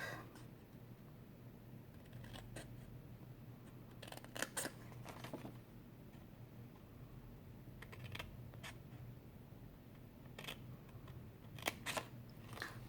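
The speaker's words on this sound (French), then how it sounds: "On fait juste un coup de ciseau." Scissors cut paper for a scrapbooking box, making several faint, crisp snips scattered over a quiet background, with no voices.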